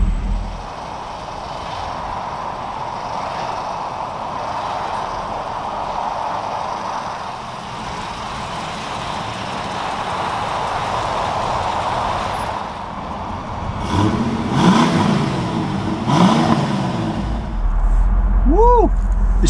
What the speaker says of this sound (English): we're about to drive a 331 mile, all original Foxbody Mustang